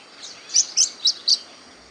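Parakeets giving four quick high-pitched chirps in an even rhythm, close and clear over a quiet background, with a softer call just before them.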